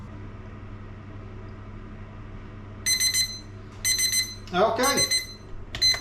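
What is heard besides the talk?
oven timer alarm going off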